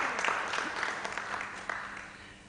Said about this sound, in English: You can clap again.